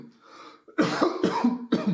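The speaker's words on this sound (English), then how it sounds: "this cough is bothering me throughout the reading" A person coughs harshly several times in a row, loud and close, after a softer throat-clearing sound at the start.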